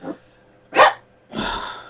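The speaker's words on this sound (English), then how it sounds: "now the dog's barking" Indoor dog gives a few short barks in bursts, roughly three separate yelps spread over two seconds, fairly close to the microphone with quiet gaps between them.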